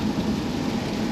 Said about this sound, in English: We got lots of rain.